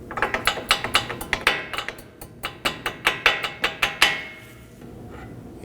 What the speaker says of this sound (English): Once they are spread out, secure them with a hammer.